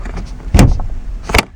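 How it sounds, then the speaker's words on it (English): SUV hood release latch being pulled: a sharp mechanical clunk near the middle, then a second click a moment later, both loud and close, with no speech. "I'm going to pull back on it, and that's going to release the hood"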